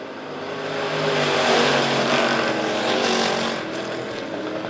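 Race cars in a speedway heat race roar through turns 3 and 4 at Monett Motor Speedway, a loud continuous engine drone that swells as the pack passes and then eases slightly.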